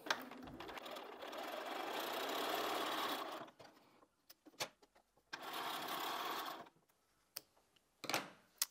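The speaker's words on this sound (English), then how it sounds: "So I'm just going to sew this with an accurate 1/4 inch." A sewing machine stitches pieces of quilt fabric in two close, steady whirring runs of about three seconds each, separated by quiet gaps with brief clicks and knocks from handling the machine.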